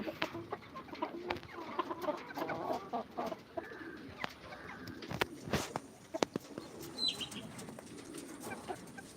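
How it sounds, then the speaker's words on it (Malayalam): Hens cluck in short, irregular bursts, some close and some farther off, with scattered sharp knocks and a steady outdoor hum underneath. "പുള്ളിക്കോഴി ഇതാ പുള്ളിക്കോഴികൾ"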